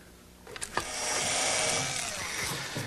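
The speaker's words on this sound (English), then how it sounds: "I just pre-drill some holes through the oak" A power drill boring pre-drilled holes through oak for a bathroom vanity base, a few brief handling knocks, then a sustained high whirring drone of about two seconds, close up.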